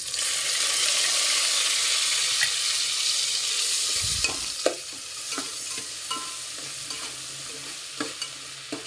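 Ginger paste fries in ghee for chicken pulao, giving a steady, close hiss throughout. After a few seconds, spoon scrapes and clinks join the sizzle as the paste is stirred in the pan.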